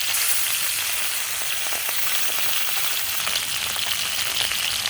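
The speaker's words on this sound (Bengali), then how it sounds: "মাছটা ভেজে নিব, কড়াইয়ে তেল দিয়ে নিচ্ছি, মাছ দিয়ে নিচ্ছি, হলুদ লবণ মরিচ মাখা মাছ" Fish rubbed with turmeric, salt and chilli frying in oil in a kadai, a dense, even, loud hiss of sizzling throughout, close up and without voices.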